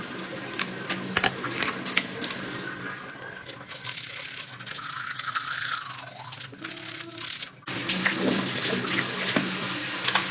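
Tap water runs into a sink during morning face washing in a bathroom, a steady splashing rush with brief clinks and handling noises, pausing briefly near the end before resuming.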